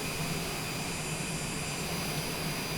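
A Cessna twin-engine aircraft taxiing with its engines running, a loud, steady droning roar with a constant whine, sustained evenly throughout with no voices.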